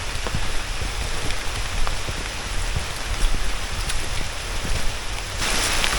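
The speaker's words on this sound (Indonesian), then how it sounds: "Gerimisnya udah mulai deras." Heavy rain pours steadily on a mountain trail, a dense, even hiss close around with no voices.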